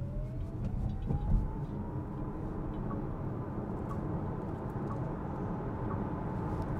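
Volvo EX40 electric car, rear-wheel drive, accelerating at full throttle: a steady low road and wind rumble from inside the cabin with a faint rising motor whine, no engine roar, no talk.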